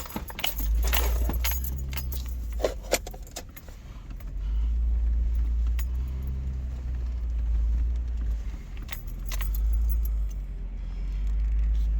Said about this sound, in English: just do a little four-wheel drive adventure. Let's go through the mud puddle.